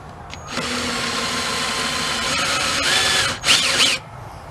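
A power drill bores into an engine piston to remove weight, a steady whining grind that runs for about three and a half seconds, close and loud, then stops with a brief wavering burst near the end.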